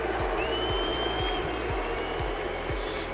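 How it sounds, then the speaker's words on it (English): Large crowd at a Rocket League esports tournament in Paris roars with a mix of cheers and boos, a sustained wash of voices with a steady pulsing beat underneath. "let's just make some noise for Shopify Rebellion"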